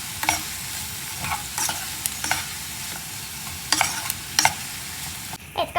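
Vegetables for a milky broccoli soup sauté in a pot, with repeated spoon scrapes and knocks against the metal over a soft steady sizzle, close and alone without speech.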